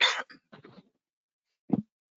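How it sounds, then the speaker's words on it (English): A man wearing a headset coughs in short, close bursts. A final, deeper single cough follows after a pause of near silence. "Pardon me, I got a cough here."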